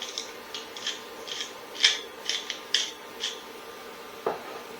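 Dry onion powder and black pepper mixed together in a bowl for French onion soup, a series of short scraping and rubbing strokes with one sharper clink near the end, close and fairly quiet.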